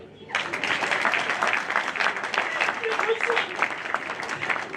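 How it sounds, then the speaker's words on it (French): A live comedy audience bursts into sustained applause and cheering after a quiet moment. The clapping is loud and dense and continues steadily throughout, with voices mixed in. "Ça s'applaudit."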